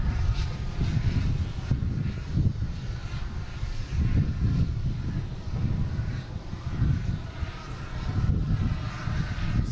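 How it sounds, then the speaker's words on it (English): An SAS airliner with red engines passes overhead at a busy airport, a loud, continuous low engine roar with surging swells and wind buffeting on the microphone. "this plane here with the red engines, very distinctive when it flies over"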